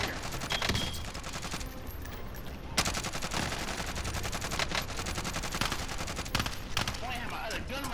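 Rapid automatic gunfire in Call of Duty: Modern Warfare, dense overlapping bursts of shots and echoing fusillades throughout, loud and continuous with brief pauses and occasional voice chatter.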